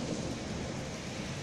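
Thunder rumbles low and steady beneath heavy rain falling during a storm, a continuous dense wash of sound with no voices.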